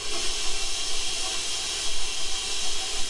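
Steady hissing whir of a stand mixer slowly blending flour into thumbprint cookie dough, continuous and close without pauses or voices.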